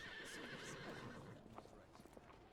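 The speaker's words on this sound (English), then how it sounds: "A horse. There it is." Horses in The Order: 1886 video game, with soft hoof clip-clops and a whinny, faint and distant among the ambient game sounds.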